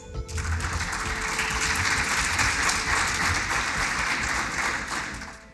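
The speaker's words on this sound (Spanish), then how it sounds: "lo recibimos con un gran aplauso" An audience welcomes the speaker at a talk on fruit growing in southern Chile with a sustained wash of applause, steady and moderately distant, swelling in after a brief pause and fading slightly at the end.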